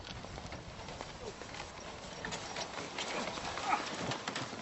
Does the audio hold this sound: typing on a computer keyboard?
no